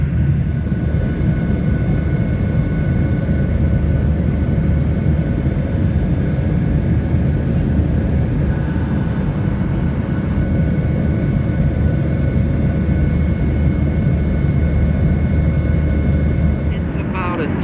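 A loud, steady roar fills an airliner cabin in flight from Guangzhou to Shanghai, a constant broadband engine and air noise with no clear speech.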